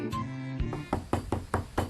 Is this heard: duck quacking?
no